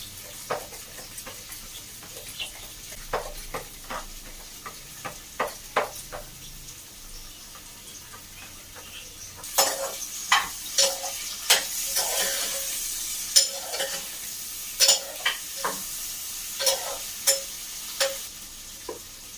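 Chopped onion and carrot being stirred into whisked yogurt for raita, heard as a steady rhythm of spoon scrapes and clicks against a bowl that grows louder and busier in the second half, with no speech.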